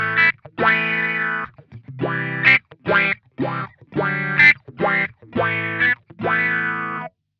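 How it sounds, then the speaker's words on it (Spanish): Electric guitar through an EarthQuaker Devices Spatial Delivery envelope filter pedal, playing short chord stabs in a choppy, funky rhythm with a quacking, sweeping filter on each hit, close and loud. "Ahora vamos a activar el Special Delivery y suena así con mi seteo favorito."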